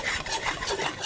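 Roasted masala spices being crushed for chicken nihari: a steady gritty rubbing and rasping over about a second, close and moderately loud, with no talking.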